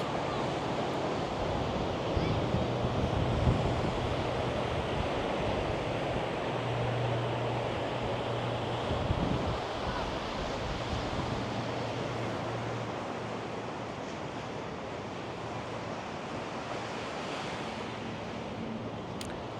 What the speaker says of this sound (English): Now my hair is going to be messy because it's so windy.